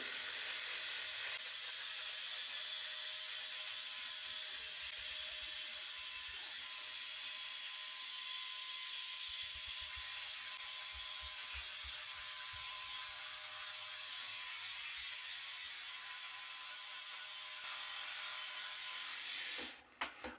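A Philips Norelco 9400 electric shaver runs steadily for about twenty seconds, a continuous close buzzing hum with faint rubbing as it moves over stubble, no talking, cutting off abruptly at the end.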